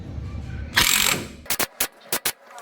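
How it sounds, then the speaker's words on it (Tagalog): An impact wrench tightens the pulley set on a Yamaha NMAX scooter: one long rattling burst, then several short sharp hammering bursts in quick succession, close and loud. "Okay, now since yung problema natin sa impact wrench is yung paluwag, ito naman, higpitan na natin."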